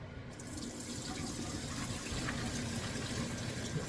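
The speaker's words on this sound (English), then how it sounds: "Or how you call it, to drain the pasta." Hot water from cooked spaghetti pours through a strainer to drain the pasta, a steady close gushing rush with no talk.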